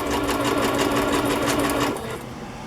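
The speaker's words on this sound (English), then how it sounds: "I'm using the zigzag stitch." A sewing machine runs a zigzag stitch on a boho journal cover, a steady close buzz that carries on for about two seconds, then quiets and stops.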